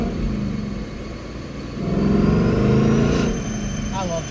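A 2019 Gen 3 Coyote Ford Mustang with a manual gearbox makes a pull, its engine rumble swelling louder partway through and then easing back, close and steady with no talk over it.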